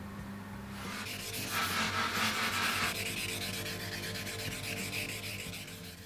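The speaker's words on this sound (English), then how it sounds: "I've got a whole heap of sanding and polishing in front of me." Steady, continuous sanding of epoxy resin, a rough abrasive rubbing that swells in the middle and keeps going without pause. Close by and moderately loud.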